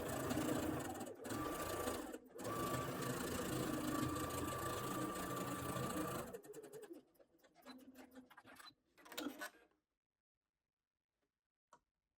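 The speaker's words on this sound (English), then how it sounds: "Sew the second row 1/2 inch or 13 millimeters towards the hem of the sleeve to create the" A sewing machine stitches a second row toward a sleeve hem to form an elastic channel, running steadily and close for several seconds, then stopping and starting in short bursts before falling silent.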